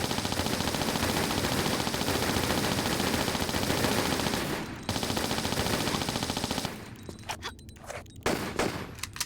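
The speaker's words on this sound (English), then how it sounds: "I just blew all my Uzi ammo on that" Rapid, sustained Uzi fire in a Tomb Raider level editor game, a dense continuous rattle for several seconds, then a short pause, more bursts, and scattered shots trailing off with scraping footsteps.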